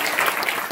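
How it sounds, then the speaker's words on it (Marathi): Loud, dense applause from a kirtan audience, many hands clapping steadily and continuously, with no voices standing out above it. "जोरदार टाळी वाजवली"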